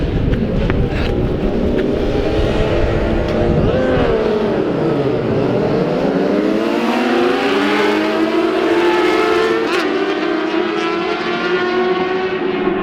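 Several race cars circulate on a warm-up lap at Donington Park, loud engines overlapping in sweeping pitch changes as they rev, lift and pass close by continuously.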